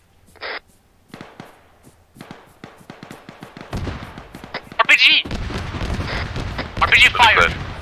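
Arma 3 combat brings RPG fire and explosions: sharp shots go off early, then heavy booming blasts with rumbling follow and keep building over a noisy battlefield, with muffled voices mixed in.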